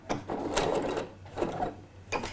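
A sewing machine lays backstitches on a pair of trousers, short forward-and-reverse bursts of mechanical chatter repeating in three or four close, moderately loud pulses.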